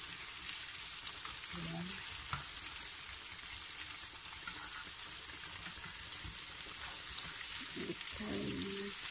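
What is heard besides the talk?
chicken frying in oil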